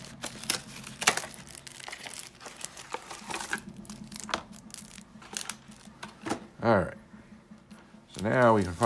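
Topps 2018 Series 1 retail packs being torn open, with repeated crinkling and ripping of foil wrappers close by, interspersed with speech.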